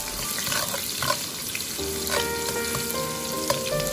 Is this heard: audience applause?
no